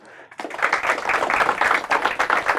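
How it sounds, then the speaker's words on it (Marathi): A burst of audience applause at a Marathi quiz event, dense and steady clapping rising quickly and continuing throughout. "इथे ऑडियन्स पण आहे, त्यांच्यासाठी जोरदार टाळ्या."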